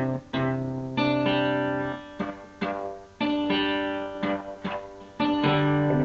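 Distorted electric guitar plays a power-chord riff, loud and alone, with strummed chord stabs in a repeating pattern broken by short gaps.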